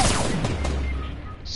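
Gunfire in a shooting video game: a single loud burst at the start with a ringing decay and a low rumbling tail, followed by quieter game ambience.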